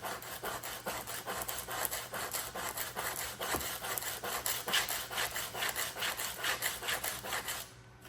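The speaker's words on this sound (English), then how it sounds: "Then you just rub your caulk back and forth. And it'll sand it down and make it nice and pointy." Tip of a caulk tube rubbed back and forth on sandpaper, a soft rhythmic rasping of quick, evenly spaced strokes heard close and alone.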